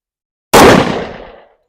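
A single sharp shot from an XDM Elite 10mm pistol with a 3.8-inch barrel firing Blazer Brass ammunition, loud and close with a quick decaying tail, heard alone.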